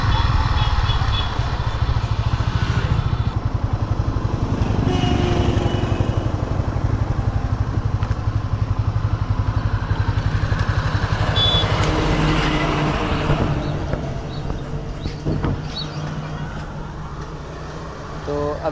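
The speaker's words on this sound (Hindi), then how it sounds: "तो उसके बाद बाइक चलाएंगे, देखेंगे कि कैसा रिजल्ट आता है ब्रेक का" A Honda CB300F motorcycle is ridden for a brake test near a fuel station, giving a steady, close engine drone with wind and road noise that eases slightly toward the end.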